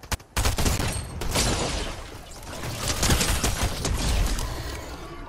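Bursts of rapid gunfire crackle and echo, some shots close and loud, others more distant, forming a continuous volley.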